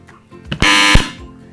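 A quiz show buzzer sounds once as a loud, sustained electronic tone lasting about a third of a second, set between quieter room sounds.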